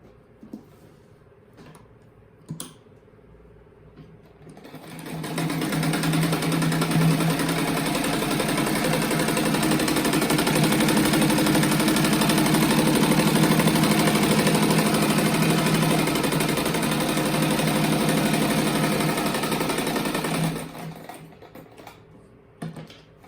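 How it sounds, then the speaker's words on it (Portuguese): A sewing machine runs in one steady, fairly loud stretch of about fifteen seconds while stitching a fluffy rug for a children's room, after a few quiet taps and handling noises. "E depois eu vou passar uma costurinha assim."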